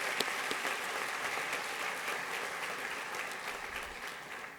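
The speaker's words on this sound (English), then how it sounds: "please give yourselves a round of applause" At the 2025 DCS awards ceremony an audience claps steadily, a dense wash of applause heard at moderate distance and fairly quiet, with no voices standing out.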